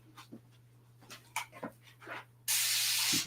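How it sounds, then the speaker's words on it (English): A spray bottle of water lets out a single long hissing spritz near the end, following quiet shuffling and small whimpering noises against a steady low hum. "I mean my spray bottle out."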